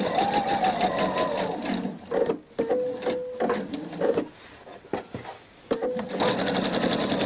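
Sewing machine stitching a kimono seam, close and mechanical, with rapid rhythmic needle clatter running in several bursts broken by short pauses.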